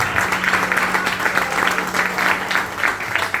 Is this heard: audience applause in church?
yes